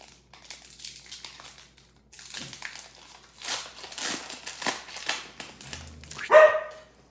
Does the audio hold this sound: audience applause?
no